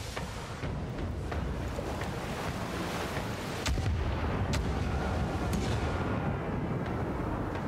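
Ship's port cannons fire at sea in Pillars of Eternity 2 Deadfire, with booming bursts spread across a steady wash of waves and wind.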